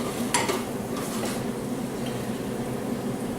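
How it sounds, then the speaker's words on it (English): Sauteed asparagus and red onion are stirred in a pan, giving a steady, close sizzle with a few light utensil scrapes and no voices. "we're just going to mix until this is all well incorporated"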